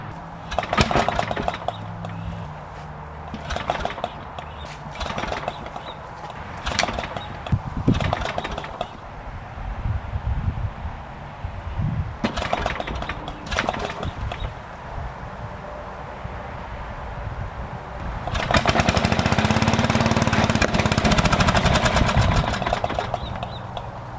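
A Dayton MTD 990 lawn mower engine being pulled and then running, heard as several close, loud bursts of engine noise and clatter, ending in a sustained, louder stretch of steady running, with no talk.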